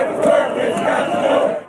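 Large crowd of union workers protesting at the Michigan Capitol, a dense roar of many voices shouting and yelling together, loud and sustained throughout.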